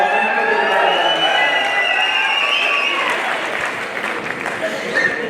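A live crowd at a Kannada stand-up comedy show claps and cheers, a loud wash of applause that gradually thins and fades toward the end.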